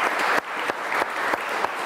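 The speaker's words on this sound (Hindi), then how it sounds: "तो उनके लिए भी तालियां बजाएं।" A studio audience on a television talk show claps briefly in a short, even burst of applause, with no speech over it.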